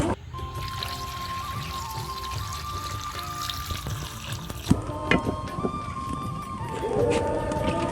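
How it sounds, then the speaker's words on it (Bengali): Water pours steadily into a pot of tomatoes set to boil, a continuous close splashing rush that shifts in tone partway through as the pot fills. "তার জন্য পানিটা দিয়ে দেবো।"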